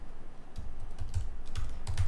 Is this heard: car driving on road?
no